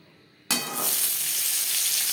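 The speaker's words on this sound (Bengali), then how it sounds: "তেলে আমি হালকা করে ভেজে নেব" Raw mango dropped into a little refined oil in a kadai, giving a sudden loud sizzle that settles into a steady, close frying hiss with no talking.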